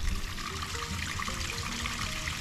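Floodwater runs again through a rural spot, a continuous wash of flowing and trickling water that stays steady and moderately close throughout, with no voices.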